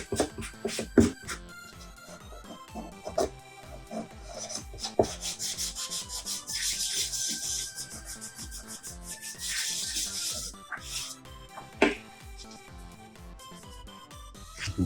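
A 3D printed part for a Wind Waker boss key replica being sanded by hand: steady, rhythmic rasping strokes, close and fairly loud, with a few sharper scrapes and no talking.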